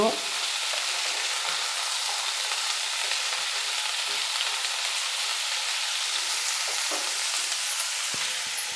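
Pumpkin pieces for a kurma fry in an oil-filled pan, giving a loud, continuous hiss and crackle that stays even throughout. Occasional soft clinks and scrapes of stirring come through, with no talking.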